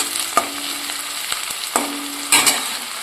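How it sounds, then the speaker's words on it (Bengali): Onions fry in a pan for an eggplant curry, giving a steady soft sizzle broken by a few sharp knocks and scrapes of a spoon stirring against the pan, close and clear. "পেঁয়াজটা ভাজা ভাজা হয়ে এসছে"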